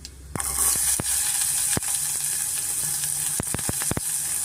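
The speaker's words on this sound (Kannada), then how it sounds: "ನಾನು ಈರುಳ್ಳಿ ಸೇರಿಸ್ಕೊತಾ ಇದ್ದೀನಿ" Chopped onion drops into hot oil with chana dal for a vegetable gojju, setting off a steady, close sizzle that runs throughout, broken by a few sharp clacks of a spoon against the pan.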